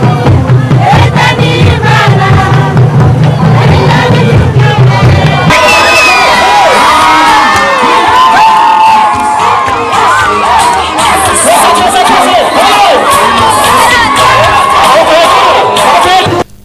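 A large crowd in Burundi cheers and shouts in celebration of an appointment, a dense and loud roar of many voices with children shouting, holding steady from start to finish.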